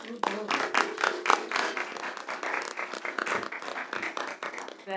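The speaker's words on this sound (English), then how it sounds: "If we could give her just a round of applause" Applause from attendees at a school board trustees meeting, a steady wash of many hands clapping close and fairly loud for about five seconds with no talk over it.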